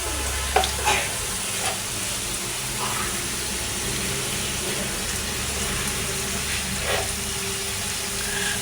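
Chilli and onion fry in a pan with turmeric powder being added, giving a steady, fairly close sizzle with a few soft stirring scrapes near the start.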